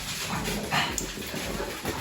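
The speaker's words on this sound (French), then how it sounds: "C'est les chiens que vous entendez." Dogs are heard nearby, a short whimper and soft bark-like yelps, fairly quiet and mixed with room noise.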